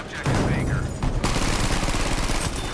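Dense, rapid gunfire from a shooting video game crackles continuously and loudly, bursts overlapping throughout, with a voice briefly audible near the start.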